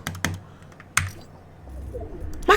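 Computer keyboard keys pressed in a few quick, separate clacks, close and crisp, with short gaps and a final louder burst of key presses.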